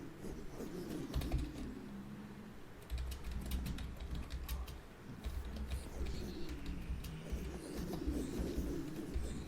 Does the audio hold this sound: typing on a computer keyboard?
yes